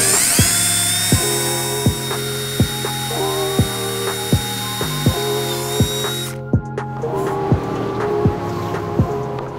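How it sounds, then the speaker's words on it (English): A power drill works on a Kawasaki 550 SX jet ski hull, whining loudly for several seconds with repeated clicks and knocks, then stopping and restarting in a shorter, lower burst. "Grab my drill bit, my drill."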